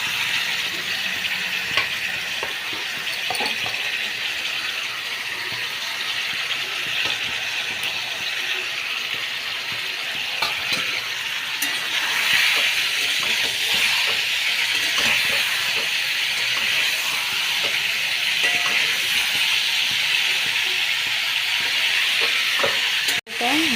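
Potato and cauliflower frying in oil in a kadai, a continuous bright sizzle and hiss with light stirring clicks, steady and close for the whole stretch.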